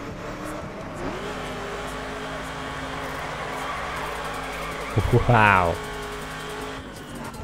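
An off-road car in the racing game The Crew revs its engine steadily throughout. A sharper, louder rising rev surges briefly near the end, and a voice exclaims over the engine.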